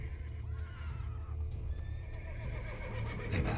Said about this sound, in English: Should like that like any other damn horse.